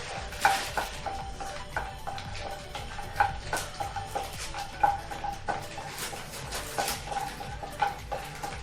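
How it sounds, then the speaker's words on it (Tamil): Broken cashews roasting in ghee in a pan, stirred with a spoon that clinks steadily against the metal over a soft, continuous sizzle. "ஒரு ஏழு எட்டு முந்திரி உடச்சி உடச்சிக்குவோம் அதை வறுத்துக்கிறேன் நெய்யில் வறுத்துட்டு"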